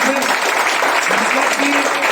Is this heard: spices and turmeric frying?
no